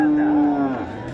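A cow at a livestock market gives a single loud, drawn-out moo close by, fading into background crowd noise.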